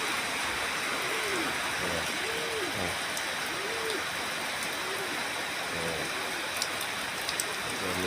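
Rain that is beginning to ease pours in a dense, constant hiss, while a series of low, arching calls repeats every second or so under the downpour.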